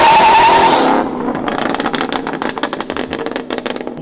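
A Whipple-supercharged Ford Mustang GT on beadlock wheels launches hard in first gear. A loud, whining burst opens it, then the exhaust gives off rapid, crackling pulses as the car pulls away.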